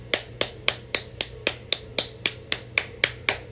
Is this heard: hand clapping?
yes